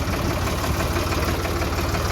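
A John Deere tractor stuck in a paddy field idles close by with a steady, low diesel rumble and a faint knocking vibration, continuous throughout with no voices.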